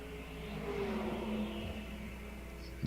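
A BMW M3 race car at Road America gives a steady mid-pitched engine drone that swells slightly and holds, heard at moderate distance with no talking.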